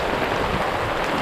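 Steady broadband rain falling outdoors on a rocky hill during a mountain-bike outing, a constant dense hiss with no pauses and no voices.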